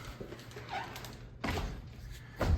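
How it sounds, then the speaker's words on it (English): A fixed leaf of a double door fitted with a Door Armor security kit and bolt swings shut, giving a couple of soft thuds with a final louder close near the end, nearby and indoors. "Close the fixed door first."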